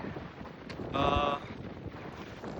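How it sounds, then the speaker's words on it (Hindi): Wind blowing outdoors in Toledo, Spain, a steady rushing buffet against the microphone throughout, with a brief brighter tonal burst in the middle. "कितनी देर हवा चल रही है, हमारे बाल उड़ गए।"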